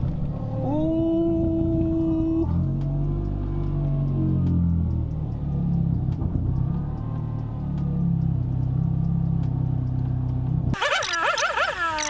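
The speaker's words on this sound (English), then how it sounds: "Reverse her out so we got some more room" A Mercedes W203 car reversing nearby, with a low engine rumble and a faint whine, ending in a brief louder burst of noise.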